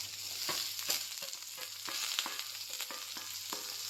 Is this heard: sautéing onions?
yes